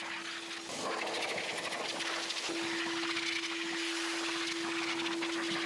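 A Metrovac vacuum runs inside a BMW M2's interior, a steady airy whine with a constant tone and broad hiss, shifting slightly as the nozzle moves, fairly quiet and continuous without speech.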